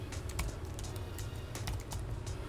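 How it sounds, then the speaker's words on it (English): Steady, fast typing on a computer keyboard, close and clear, with quick irregular key clicks running throughout and no voices. "you can just type in like whatever you want"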